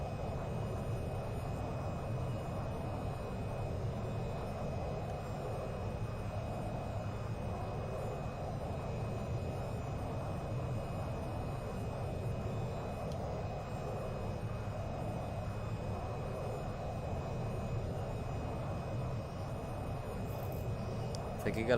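Aircraft engines from planes circling an aircraft carrier in the VR flight game VTOL VR, a steady continuous droning roar that stays at an even level throughout with no clear gaps.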